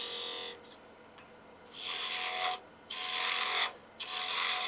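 A spindle gouge cuts a wooden egg spinning on a woodturning lathe, giving bursts of close, rasping shaving noise separated by short pauses as the tool is lifted and re-engaged.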